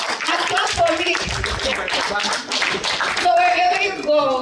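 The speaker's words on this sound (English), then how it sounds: "Clap for her. And clap for me." An audience at a youth conference claps in an uneven burst, with excited voices and cheering mixed through the clapping fairly close by.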